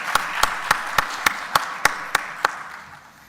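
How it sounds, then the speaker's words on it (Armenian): Applause in a parliament chamber honouring Alen Simonyan: nine sharp, evenly spaced claps in a steady rhythm, fairly close, tapering off toward the end with no talking. "Ծափահարենք պարոն Սիմոնյանին"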